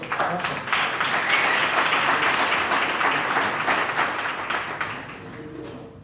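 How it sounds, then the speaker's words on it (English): Audience applause for a guest speaker at a Rosebank tech meetup, a sustained roomful of clapping at steady loudness that tapers off near the end. "Can you give him a round of applause?"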